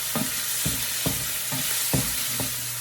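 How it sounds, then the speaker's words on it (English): Garlic stir-fries in a ceramic-coated non-stick wok: a constant sizzle broken by about six evenly spaced scraping strokes of a spatula, close and fairly loud. "Now I'm gonna put the garlic in. Stir fry it until it's nice and brown."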